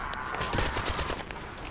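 Burst rifle gunfire in the shooter game The First Descendant, a short cluster of rapid shots close by over a continuous background hum, with no talking.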